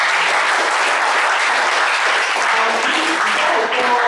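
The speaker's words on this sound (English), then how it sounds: "Everybody please let's clap for all these reactors." Audience clapping at a Chemical Society of Nigeria Kwara chapter chemistry quiz competition: a loud, dense, steady wash of applause that carries on without a break from start to finish.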